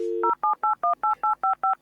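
A telephone keypad dials in the manner of an AOL dial-up modem connection: a short steady tone followed by eight evenly spaced DTMF beeps in quick succession, clean and close.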